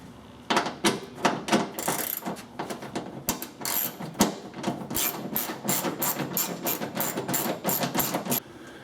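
A ratchet wrench removing 10 mm bolts from a 2022 Ford Maverick truck bed cover, rapid clicking bursts in several runs, close and fairly loud, with no talking.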